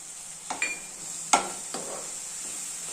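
Ripe banana and grated coconut sautéing in ghee in a pan: a few sharp spatula scrapes and clinks over a faint, quiet sizzle.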